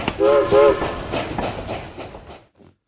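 A train rolls by with two short horn blasts at the start, then rhythmic clickety-clack of wagons that fades away to near silence, used as a quick sound effect.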